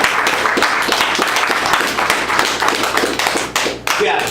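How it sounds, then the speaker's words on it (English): An audience at an Eid gathering claps for the women who prepared the feast, a fast, close run of loud individual hand claps with some voices in the room, easing briefly near the end. "Let's give our sisters a round of applause."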